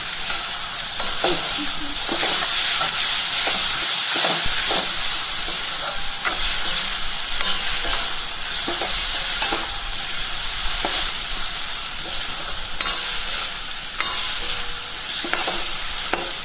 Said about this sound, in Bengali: মশলাটা কষাতে কষাতে আমি এদিকে আলুটা ভাজা বসিয়ে দেবো